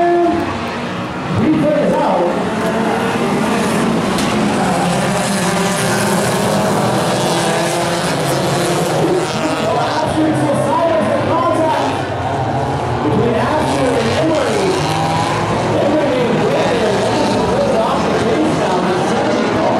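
A 1995 Acura Integra with VTEC racing in a Hornets-class main event at a speedway, its engine roaring among other cars in a loud, steady field of motor noise. A public-address voice announces throughout.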